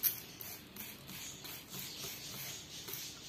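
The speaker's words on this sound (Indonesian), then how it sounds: "kita semprot lagi." A hand spray bottle mists water onto a T-shirt during sublimation printing, giving a quick series of soft, faint hissing bursts in an even rhythm.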